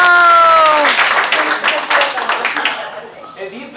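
A voice calls out briefly, then a crowd at a class certificate ceremony breaks into applause, a dense wash of clapping that holds for about two seconds and then quickly dies away.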